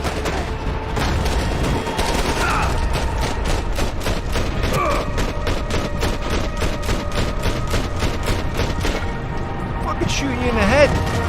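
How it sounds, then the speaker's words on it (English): A grenade launcher and heavy gunfire in the video game Max Payne 3, rapid rhythmic bursts of shots and booms repeating loudly for the whole stretch, with voices shouting briefly near the end. "Grenade launcher."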